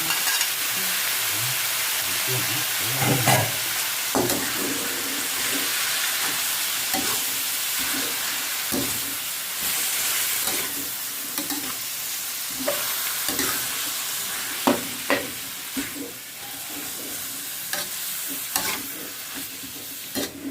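Pickled bamboo shoots and pork stir-fried in a pan, with a steady loud sizzle and the spatula scraping and tossing in a repeated rhythm throughout.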